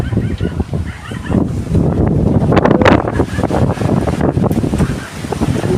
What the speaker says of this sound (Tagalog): Grabe yung hangin, oh.